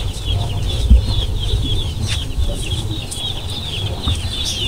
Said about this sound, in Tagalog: Ito yung pinamilihan ko mga manok.